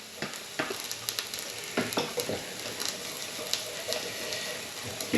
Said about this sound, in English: Give that a stir around.